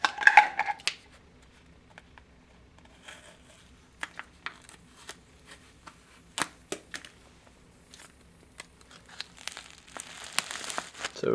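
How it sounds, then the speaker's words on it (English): An MRE chili macaroni with beef food pouch being cut open with a knife: irregular crinkles, clicks and rustling of packaging, sparse at first and then denser crinkling near the end, close and fairly quiet. "So I just use a knife, cut it across that, and you have a big pouch to work with."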